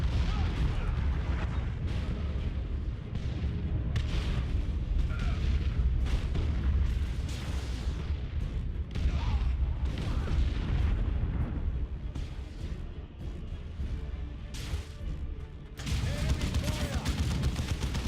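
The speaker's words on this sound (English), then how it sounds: "Keep advancing to avoid the artillery." Artillery fire and battle in the Warhammer 40,000: Dawn of War 2: Chaos Rising game: dense, continuous booms, rumbling explosions and gunfire, loud and layered, with game voices speaking in between.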